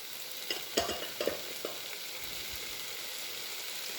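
Diced tomato goes into a hot frying pan with herbs and sizzles quietly, with a few clattering stirs of a utensil early on before the soft frying hiss settles alone.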